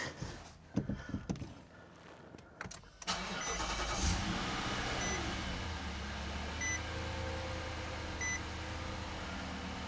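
After some clicks and handling noises, a 2019 Nissan Armada engine cranks and catches, then settles into a steady, smooth idle with a few faint beeps.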